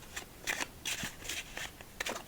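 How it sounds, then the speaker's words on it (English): Playing cards shuffled during a late-night solitaire session, a run of soft papery riffles and bursts repeating about every half second, close and fairly quiet with no talking. "let's do a couple more shuffles."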